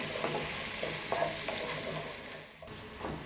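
Chopped garlic, onion and parsley frying until golden, a soft, steady sizzle with spatula stirs and light scrapes against the pan, quiet and close, no voices.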